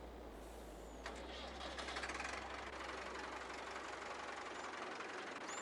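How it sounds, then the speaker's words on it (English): A heavy tractor engine in Farming Simulator 22 cranks and catches, then settles into a steady low knocking idle with a hissing, rattling layer on top, close and continuous. "it's got a nice tractor engine start and running sound"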